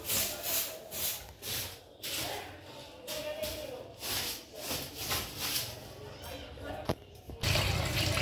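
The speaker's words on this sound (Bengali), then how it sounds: "যে শাকগুলো ধুয়ে নিচ্ছি ভালো করে, তারপরে কেটে নিব" Leafy greens are swished and rinsed in water, rhythmic sloshing and splashing surges close by, with a voice talking over parts of it.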